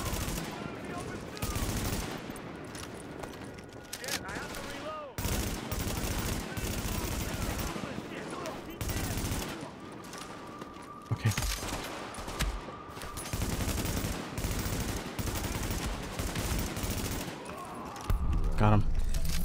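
Sustained automatic gunfire fills a firefight in the video game The Division, dense rattling bursts near and far, with brief lulls between volleys and voices talking over the shooting.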